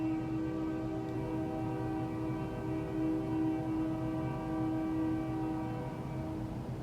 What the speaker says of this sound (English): All right, the train stopped.